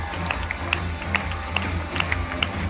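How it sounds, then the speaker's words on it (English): A theatre audience applauds after a show aboard the MSC Grandiosa cruise ship. Steady clapping from many hands fills the room, with a few sharper claps standing out, and there is no talk. "let's keep the applause going!"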